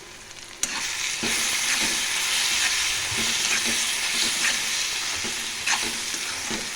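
Chili powder and coriander powder being stirred into a village-style eggplant and tomato curry in a hot pan, a steady close sizzle with soft scraping strokes.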